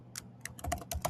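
Quick keystrokes on a computer keyboard, about seven close, crisp clicks in an uneven rhythm over a second, alone without talk.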